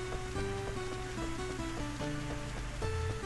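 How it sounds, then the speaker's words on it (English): Steady rain patters in the video game Rune Factory 3, a dense even hiss layered with looping game music tones, continuous and fairly loud throughout. "So it's raining again."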